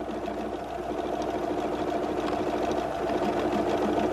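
A Husqvarna Viking #1 sewing machine running continuously, a close, steady mechanical hum and rapid needle chatter holding an even pace throughout.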